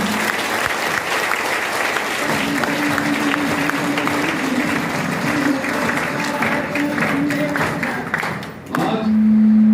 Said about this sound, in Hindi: एक बार तालियां बजा दो ऊपर वाले की